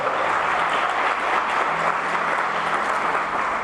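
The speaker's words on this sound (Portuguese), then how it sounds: "Pode aplaudir ao Senhor" A church congregation applauding, a dense, even wash of clapping that holds steady without a break, no voice rising over it.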